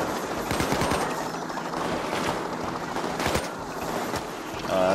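Gunfire in PAYDAY 2 during a jewelry store heist on hard difficulty: a dense, continuous clatter of automatic weapon shots with loud bursts throughout, under game noise.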